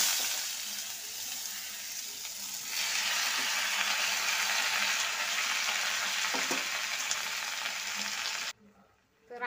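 Sweet potatoes frying in a small spoonful of ghee in a hot kadhai, a steady close crackling sizzle that swells louder partway through and cuts off abruptly near the end.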